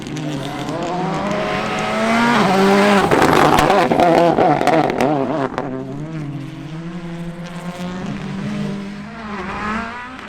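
Volkswagen Polo R5 rally car on a gravel or tarmac stage at a Northern Ireland summer rally, engine note rising and falling loudly through gear changes as it passes close by, with a roaring peak before fading slightly.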